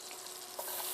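Fresh corn sizzles in a skillet of butter and olive oil, a faint, brief, even hiss with no talk.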